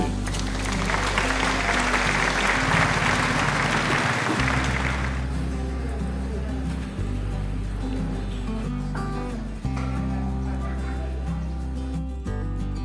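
A short burst of dense clapping applause, added as praise for a tasty meal at a restaurant on a Chiang Mai camping trip, rises over steady background music and cuts away after about four seconds while the music carries on.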